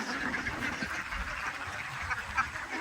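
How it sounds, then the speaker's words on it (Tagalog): Ducks quack in short bursts amid the general murmur of a Philippine duck farm, moderately distant and fairly quiet, with faint background voices. "Ayan po yung kanyang itik na alaga"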